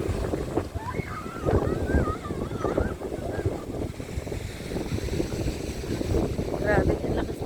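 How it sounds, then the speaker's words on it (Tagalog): Strong wind gusting by the Dupinga River in Gabaldon, Nueva Ecija, a steady broadband rush with flowing water beneath, while people talk over it throughout. "grabe yung lakas ng hangin"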